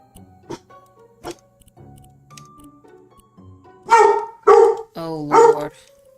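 Dogs bark in House Flipper 2: a few quiet yips and scuffles, then four loud, close barks in quick succession near the end.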